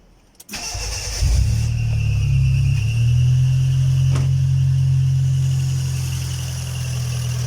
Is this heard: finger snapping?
no